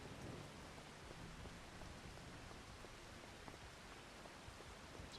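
Steady rain inside Farming Simulator 25, a dense, even hiss of falling water that holds at the same level throughout, with faint low rumbles beneath it and no voices over it.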